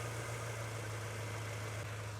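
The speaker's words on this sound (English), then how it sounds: "But the engine's sounding good." Subaru Impreza GC8 WRX with an EJ22 engine idles steadily, a low, even hum with a constant drone and no revving, fairly quiet and uninterrupted by speech.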